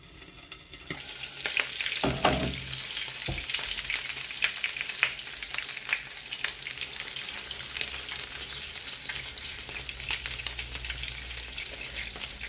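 Continuous crackling sizzle of meatless patties frying in a covered pan, busy and close, with a few clinks and scrapes early on.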